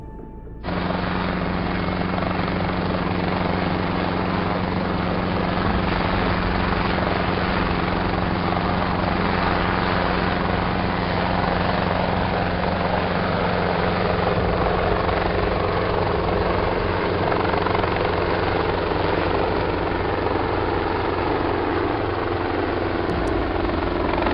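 A helicopter drones steadily for the whole stretch, its rotor chop and engine hum loud and continuous, slowly shifting as it passes.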